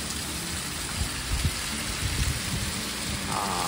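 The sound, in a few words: rain falling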